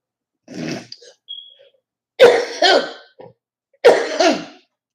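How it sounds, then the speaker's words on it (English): A person coughs hard in three separate fits, each a cluster of two or three harsh, close, loud coughs separated by silence, with a faint throat sound between them. "I think I'm coughing like this because now my system in overload."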